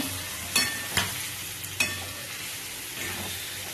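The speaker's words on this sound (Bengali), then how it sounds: "এর উপরে সামান্য একটু তেল ছড়িয়ে দিলাম, দিয়ে একটু কষিয়ে নেব" Chicken being sautéed in a little oil in a pan gives a steady, close sizzle, with a few sharp utensil knocks and scrapes early on, then a softer frying hiss with no voices.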